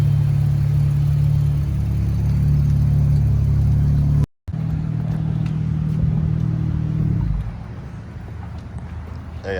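A V6 Chrysler 300S with its muffler deleted runs loud and steady, its deep engine drone holding at high revs for several seconds, cutting out briefly, then settling down toward a lower idle.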